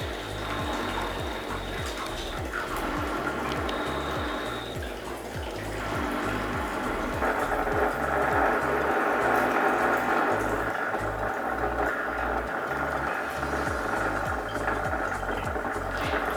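A semi-automatic washing machine draining its water: a steady rush and gurgle of flowing water over a rhythmic low mechanical pulsing from the pump, close and continuous, with no talking.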